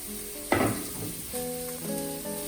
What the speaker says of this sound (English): And the key here is that we're going to saute. And this sound, again, is absolutely magic in the kitchen.